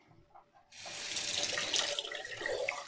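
Tap water starts running abruptly and keeps flowing steadily, loud and close, while a shaving brush is wetted for a lather test of the PAA Amber Aerolite brush.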